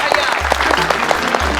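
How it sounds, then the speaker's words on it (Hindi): Audience applause at a Diwali function in a pandal, steady dense clapping throughout with a low hum and tonal music underneath. "यहाँ तालियां बजती है।"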